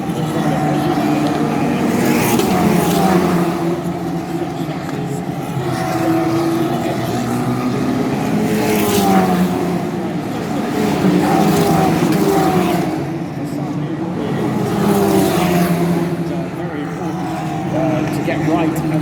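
Formula Regional by Alpine race cars lap the Monaco street circuit, their engines rising and falling as each car sweeps past, while a commentator talks over the repeated passes.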